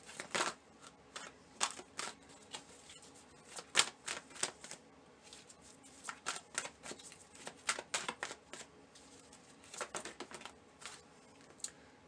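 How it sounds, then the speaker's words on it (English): Oracle cards being shuffled and pulled from a deck, a quiet close run of papery riffles, flicks and taps in irregular bursts with no talk. "I'm going to pull a few grace cards before I end the reading for you"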